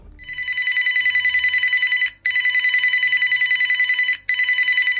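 An electronic telephone ring from the Scream board game sounds in three loud, steady trilling bursts separated by brief gaps, close and clear with no talk.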